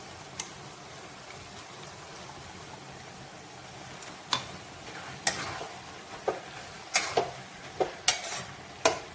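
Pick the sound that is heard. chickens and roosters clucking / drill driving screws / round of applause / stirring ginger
stirring ginger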